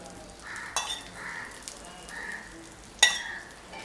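Brinjal (eggplant) slices frying in oil in a pan, soft sizzling bursts rising and fading in a repeating rhythm, with a couple of sharp clinks of utensils against the pan, heard close and fairly quiet.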